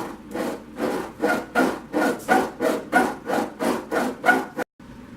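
Sandpaper at 60 grit rasps rhythmically against the wooden feet of a cello bridge, about eleven steady back-and-forth strokes in a brisk regular rhythm, close and fairly loud, ending in a brief silence.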